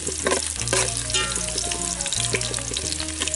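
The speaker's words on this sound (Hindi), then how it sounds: "लाल मिर्च, बारीक कटा हुआ अदरक। इसे हल्का पकने देते हैं।" Red chilli and finely chopped ginger fry in hot oil in a pan for a village-style pork curry. The sizzle is loud, steady and close, with a few light stirring clinks over it.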